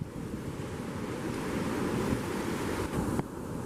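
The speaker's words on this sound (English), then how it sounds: "Got a lot of water flowing out of the estuary mouth even though it's high tide" Water flows out of the St Lucia estuary mouth at high tide into the surf, heard as a steady roar of surf and rushing water under heavy wind buffeting, with no voices.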